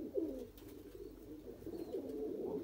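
Soft, low cooing of Kasuri golden Dubwala pigeons, a faint, steady murmur of coos repeating over quiet background noise.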